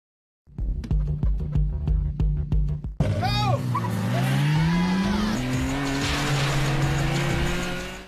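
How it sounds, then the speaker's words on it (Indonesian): Nissan GT-R and Toyota AE86 race cars from the Initial D film: a rhythmic pulsing opening gives way to a loud engine climbing steadily in pitch as it accelerates, with sharp tire squeals near the start of the run. "Nissan GT-R yang unggul speed di jalan lurus meninggalkan Toyota AE86 milik Takumi"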